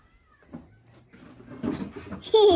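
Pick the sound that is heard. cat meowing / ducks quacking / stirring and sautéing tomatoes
cat meowing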